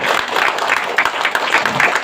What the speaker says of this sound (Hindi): जोर से ताली बजाइए सब,